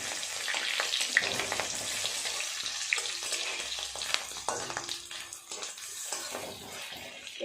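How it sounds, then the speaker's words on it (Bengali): Fish roe fritters turned over and frying on their second side in hot oil in a wok, a continuous close sizzle with sharp pops and a few faint utensil clinks. "উল্টে অপর পিঠটাও ভেজে নেব।"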